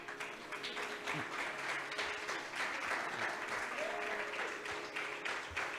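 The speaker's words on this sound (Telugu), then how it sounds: "అందరూ ఒకసారి చప్పట్లు కొట్టండి" Sustained audience applause fills a live Carnatic music concert hall during a Tyagaraja Aradhana festival, steady dense clapping throughout with a faint tonal hum beneath.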